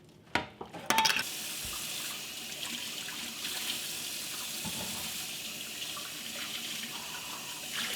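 Tap water runs steadily into a sink while canning jars, lids and screw-on bands are washed in warm soapy water, opening with a few glassy clinks before a constant close rushing flow.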